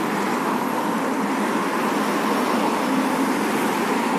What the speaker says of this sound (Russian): Здесь шумно возле дороги.